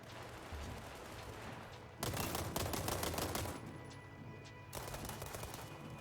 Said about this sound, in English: as we're shooting across this way here